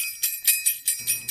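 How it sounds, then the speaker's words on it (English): A bright metallic bell rings in about six quick, evenly spaced pulses, each ring clear and close, with a faint low hum entering toward the end. "if you hear the dingle bell nearby"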